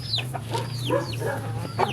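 Pet chickens cluck steadily in a backyard flock at feeding time, repeated short calls close by over a constant low background hum.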